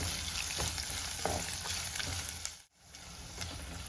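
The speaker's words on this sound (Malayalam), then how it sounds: "ഇതെല്ലാം നന്നായിട്ടൊന്ന് എന്താ പറയുക മൂപ്പിച്ചെടുക്കണം കരിഞ്ഞു പോകരുത്" Onions sautéing in hot oil for a Palakkad-style roasted chilli tamarind curry; a loud, dense, continuous sizzle up close that drops out for a moment and then resumes, with no talking.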